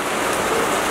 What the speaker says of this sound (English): In this rain?